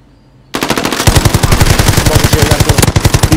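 Rapid automatic gunfire in an online trios shooter match, loud and continuous with a dense rhythmic rattle of shots starting abruptly after a brief quiet moment.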